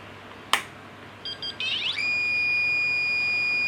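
A small DC Box ghost-hunting device switches on with a click, a few short electronic beeps and a brief warbling chirp, then settles into a steady high-pitched tone over faint background hiss.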